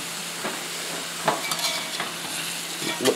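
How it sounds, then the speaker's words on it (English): Chicken of the woods mushrooms being stirred in a pan with soy sauce, a steady soft sizzle with a few scraping and clinking utensil strokes against the pan, close up and with no talking. "So I'll stir them around."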